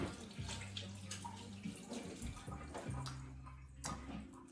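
Hands are rinsed under a running kitchen tap, giving a steady close stream of water with light splashing and gurgles, alone without speech.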